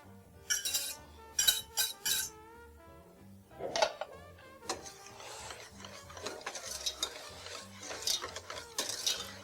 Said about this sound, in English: And whisk that together.